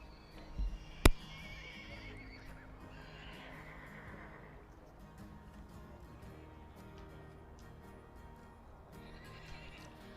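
Highland ponies and foals at a show, one sharp neigh near the start followed by soft hoof clops and ambient arena noise, moderately distant with no talking.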